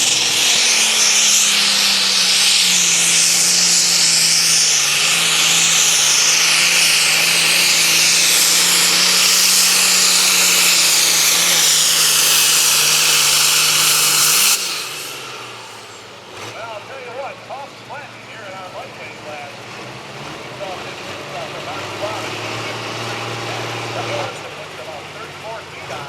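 A pulling tractor at a truck and tractor pull roars loudly with a steady, high-revving engine for about fifteen seconds, then cuts down to a lower idle rumble amid crowd noise and a voice.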